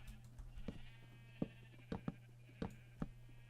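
A black sheep bleats faintly in a few brief, separate calls spread over several seconds, with a steady low hum running underneath.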